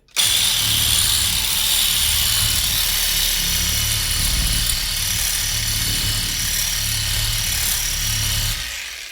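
AL-KO HS 2015 18 V cordless reciprocating saw fitted with a cleaning attachment, running steadily and loudly for about eight seconds with a harsh high buzz over a low motor rumble, then winding down.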